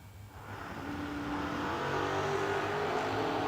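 A drag race car launches at a memorial race, its engine roar rising quickly and then holding as a loud, sustained rumbling drone that stays fairly near.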